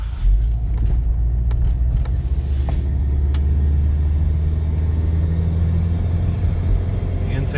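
2012 Subaru Forester XT Touring turbocharged engine and intake drone while driving, a steady low rumble with road noise inside the cabin, continuous and fairly loud throughout.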